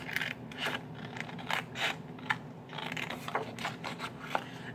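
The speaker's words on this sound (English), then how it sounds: "you're going to take your scissors and flip it around, and where you scored on the 5/8 inch line, we're just going to cut all that off" Scissors snip through folded blue card stock along a scored 5/8 inch line, making a steady run of close, crisp cuts and rustles with no talking.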